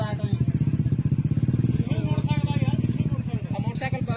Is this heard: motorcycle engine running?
yes